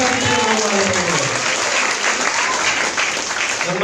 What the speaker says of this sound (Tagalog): Yung buhay at malakas na palakpak para sa ating pinamahal.